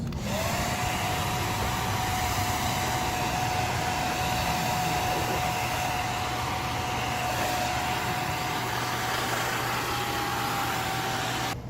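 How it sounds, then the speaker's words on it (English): A hair dryer blows dust out inside a desktop PC case, a loud, steady whooshing roar with a constant whine, running unbroken for about twelve seconds with no talking. "Now I'm going to do start with the hair dryer inside the PC"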